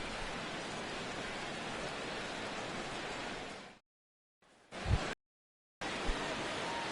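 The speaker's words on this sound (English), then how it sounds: "Rain continues to fall here in the 6th." Rain falls on a ballpark during the sixth inning of a Twins at Indians baseball game, a steady hiss of downpour that cuts out abruptly partway through, broken by brief gaps and a soft thump before resuming.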